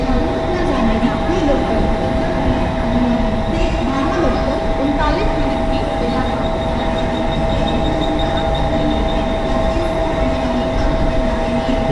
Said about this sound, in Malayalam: ഓപ്പോസിറ്റ് ലൈനിൽ അടുത്ത ട്രെയിൻ വന്നത് പൻവേലേക്കുള്ള ലോക്കലാണ്.